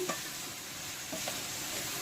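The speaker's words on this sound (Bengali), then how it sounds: "এবার আলুটা একটুখানি ভেজে নিয়ে মশলা দিয়ে দিলাম" Chandramukhi potatoes fry with spices in a pan over onions already browned, giving a steady, close sizzle with a few light stirring knocks.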